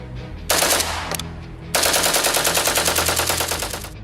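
Rapid bursts of rifle fire from a bump-stock-equipped rifle: a short volley, a brief pause, then a longer sustained burst of loud, closely spaced shots mimicking automatic fire.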